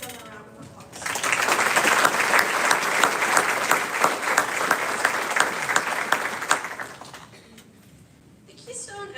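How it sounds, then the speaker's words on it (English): Sustained audience applause at a school class day ceremony after officers are introduced, building quickly, holding steady and loud for about six seconds, then fading out. "Please give them a round of applause"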